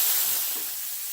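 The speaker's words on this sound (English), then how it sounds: "the first thing we got going here is our bacon. We got the griddle on about 350 degrees." Bacon sizzling on a griddle heated to about 350 degrees, a bright, steady hiss of frying fat, close and alone, fading slightly over a brief moment.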